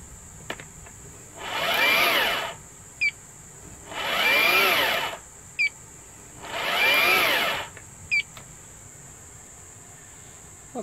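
An electric chainsaw running off a 3500 W inverter revs up in three separate bursts of roughly a second each, each one dying away quickly, with short clicks in between.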